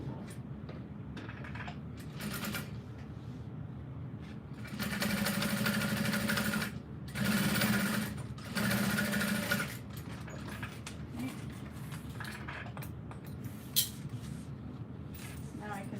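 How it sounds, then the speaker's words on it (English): A sewing machine stitches along the bottom seam of an apothecary tote bag, running in a few steady mechanical bursts of whirring and clicking, moderately close, with faint background noise between the runs. "Sew up these bottom."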